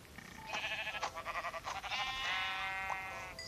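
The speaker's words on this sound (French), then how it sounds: "Des bons petits moutons." Sheep bleat in a video game, several wavering, tonal cries in quick succession at moderate volume with no talking.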